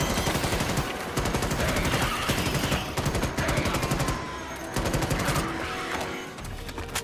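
Dense, continuous rapid-fire gunfire while shooting bugs in Starship Troopers: Extermination, loud and relentless, with a short break before the shooting resumes.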